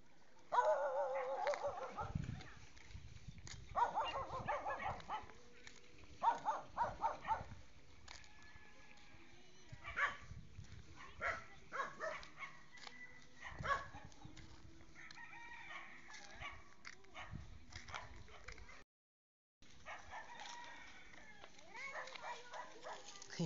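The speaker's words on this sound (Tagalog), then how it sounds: "pinagalitan pa ako ng aso" A dog barks in short intermittent outbursts near a riverside in the Philippines, while roosters crow and cluck around it and people talk on and off.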